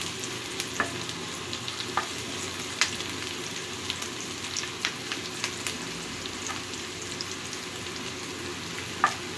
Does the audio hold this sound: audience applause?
no